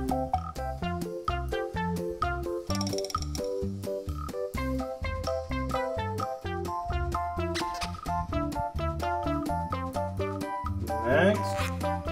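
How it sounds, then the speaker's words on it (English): Repeated frog croaks sound over bright, rhythmic children's learning music, with the croaks fairly loud and mixed into the backing track throughout. "F for frog."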